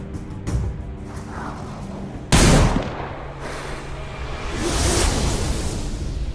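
A single loud, sharp sniper rifle shot in the zombie shooting game Sniper Zombies, cutting in abruptly over steady game ambience and followed by a rising whooshing swell.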